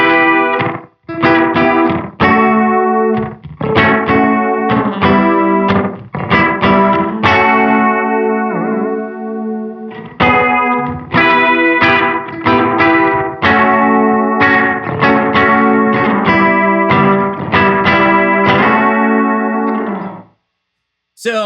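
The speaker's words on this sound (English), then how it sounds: "a kind of a slap back style delay there going" Electric guitar chords and picked notes run through a Caroline Kilobyte delay set to a short slapback with chorus, loud and close, with doubled, shimmering repeats. The playing continues with a brief gap midway before the notes ring out and stop.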